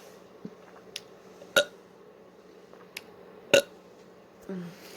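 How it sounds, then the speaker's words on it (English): A single deep burp lasting about a second near the end, preceded by short sharp clicks and mouth sounds in an otherwise quiet room. "There's a nice burp for you guys."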